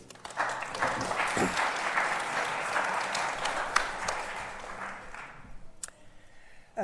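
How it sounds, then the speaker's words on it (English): Audience applause for a speaker at a talk about the Maison Forte de Reignac in the Dordogne: a room-filling burst of clapping that holds steady for about five seconds, then thins to a few scattered claps before dying away. "big round of applause for Linda, please"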